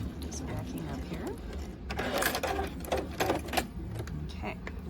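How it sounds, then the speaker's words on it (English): A domestic sewing machine runs a plain straight stitch with a short stretch of back stitching on a breast form seam, the motor whirring in steady bursts that surge and pause, fairly close and clear. "Do some back stitching and then come all the way down. I'm just using a regular plain straight stitch."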